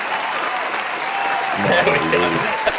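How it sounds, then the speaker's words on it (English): A soundboard applause effect plays during an online Jeopardy game, a continuous wash of clapping with a voice talking over the latter half. "Where's the clapping you made there?"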